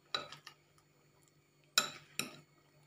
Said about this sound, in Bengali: এবার সব কিছুকে ভালো করে মিক্স করে নিচ্ছি।